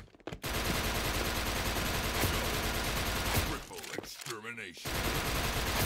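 Rapid sustained automatic gunfire in the Indonesian shooter game Wardeka Edonisia, dense and loud, broken by a short pause, with a voice briefly heard in the mix.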